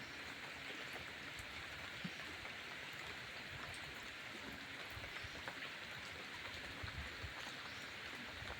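Steady rain falls near a railway platform during a morning wait for a train, a constant dense hiss of drops that stays even and faint throughout with no voices.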